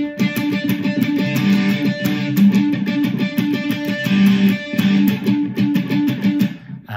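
A three-string cigar box guitar plays a palm-muted riff: tight, chugging repeated figures that stay loud and steady throughout with no voices.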